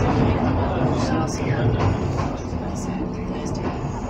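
A Docklands Light Railway train in London gives off a steady, close rumble and rolling noise with faint squeals above it.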